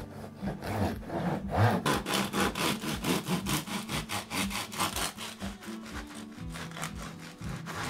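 A knife saws through a crusty farmhouse cob loaf, with repeated rough back-and-forth strokes crackling through the crisp crust, close and fairly loud, with no talking.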